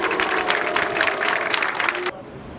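Crowd of health workers at a street protest joins in mocking applause and jeering, a dense burst of clapping and shouting that stops abruptly near the end, leaving quiet room.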